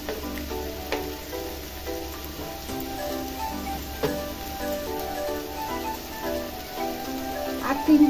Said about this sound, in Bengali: পেঁয়াজটাকে লাল লাল করে একটু ভেজে নেব ভালো করে